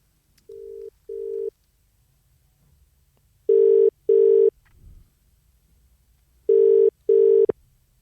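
A phone call being placed: two short dial-tone bursts, then two pairs of loud ringback tones separated by a pause, clear and close with no talk over them.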